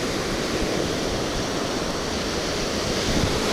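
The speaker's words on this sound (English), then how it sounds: "I think the waves are moving it around too much." Ocean surf breaking on a Gulf Coast beach in Florida, a steady, loud broadband wash of waves rolling without pause, heard alone with no voices.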